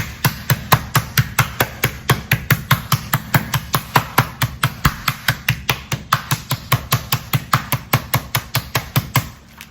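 Chicken is pounded flat inside a thick double-layered freezer bag. Steady, rapid thuds repeat about four times a second for nearly ten seconds, up close and with no talk.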